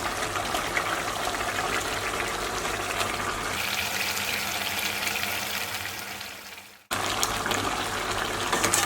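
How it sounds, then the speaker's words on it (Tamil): Water pours steadily into a pan of Chettinad crab masala as a close, continuous splashing stream, cutting off sharply near the end before the background resumes. "இப்போ இதில் நான் ஒரு அரை டம்ளர் தண்ணி சேர்க்குறேன்."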